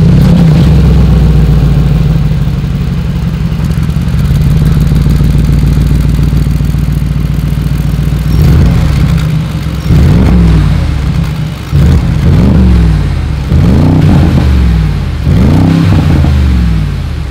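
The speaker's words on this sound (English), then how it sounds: "As always, here is that exhaust clip." A 2022 Mercedes-AMG G 63's side-pipe exhaust idles with a deep, steady rumble, then fires off a series of loud, rising revs in a rhythmic pattern, close and with no talking.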